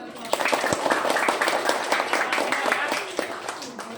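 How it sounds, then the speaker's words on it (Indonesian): Schoolchildren in a classroom clap their hands together, a quick run of sharp, fairly even claps with voices mixed in beneath. "Oke, bagus. Tepuk tangan dulu."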